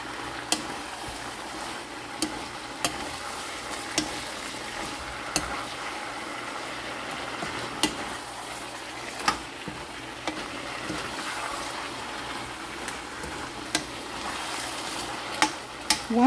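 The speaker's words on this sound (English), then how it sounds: "So we are going to mix this slowly but surely." Beef with vegetables and gai lan fries in a pan under a steady sizzle, broken by periodic sharp scrapes and taps of a utensil as the food is stirred slowly, with no talk.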